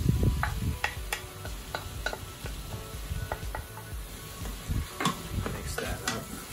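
Garlic, ginger and onions sizzle in an Instant Pot as a spoon stirs them, with frequent close scraping and tapping clicks over a soft steady fry.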